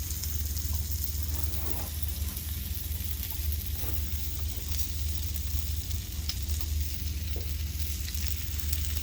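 Salmon and asparagus sizzle in a hot cast iron sizzle skillet resting on a trivet at the table, a steady, fairly loud hiss and crackle with small pops throughout, no talk.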